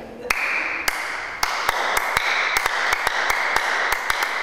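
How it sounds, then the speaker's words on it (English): Two people clap the Aka ekake rhythm, sharp close claps landing in an interlocking pattern over a sustained ringing tone, about a dozen crisp hits in quick succession. "When two people clap it, you say now, Bekake."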